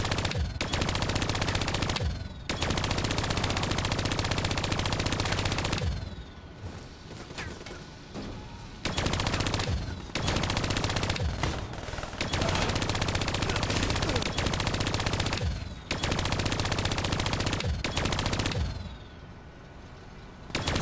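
Long bursts of loud automatic gunfire in Call of Duty Black Ops 3 rattle continuously while shooting down vats, broken by a few short pauses between sustained volleys.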